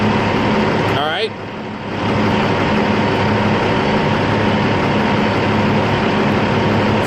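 A 1997 Peterbilt truck's engine hums in a steady, loud drone as its revs climb, with a short dip and a rising whine near the start.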